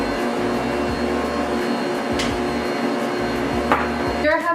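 An electric mixer blends egg yolks with vanilla and almond extract for Puerto Rican bizcocho de novia batter, a steady whirring motor drone running throughout with a brief clatter near the end.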